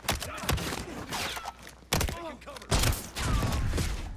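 Gunfire in the video game Call of Duty Black Ops 6, several sharp shots and thudding bursts at irregular intervals, fairly close and punchy, with voices audible between them.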